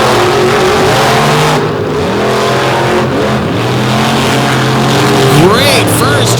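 A racing boat engine driven hard during a race on Lake Erie, a loud, sustained roar whose pitch rises and falls as it pushes on, with a commentator talking over it.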